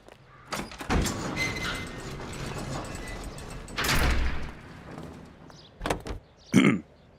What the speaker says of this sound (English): Suicide doors.